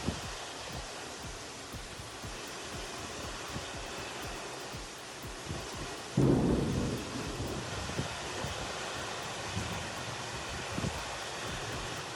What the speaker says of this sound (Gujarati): ઝરમર વરસાદ વરસી રહ્યો હતો